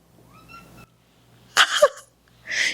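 A cat meows indoors, first a faint drawn-out mew, then after a pause a louder sharp meow with a wavering tail, and a final strained meow, close by with a quiet room behind.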